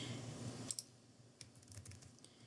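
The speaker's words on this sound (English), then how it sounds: "And here you would type in" Keyboard typing on a computer at an office login screen, a few quick soft clicks near the start followed by faint scattered keystrokes over low room hum.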